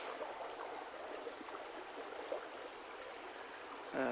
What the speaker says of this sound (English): Beautiful little early fall creek.